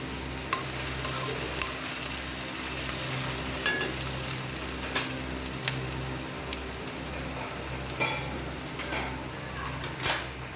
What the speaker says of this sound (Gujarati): એક મોટી ઓનિયન કાંદો ચોપ કરીને લેવાનો છે। તેલ આપણું ગરમ જ હતું, મિક્સ કરી લઈશું।